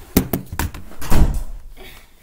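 A door is shut and locked during an indoor game of hide and seek: a few sharp knocks and thuds, then a heavier thump as it closes, followed by fading rustle.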